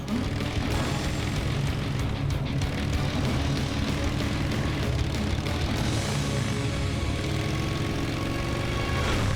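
A stolen motorbike being ridden away: a steady, loud engine drone with low rumble runs unbroken throughout, no voices on top.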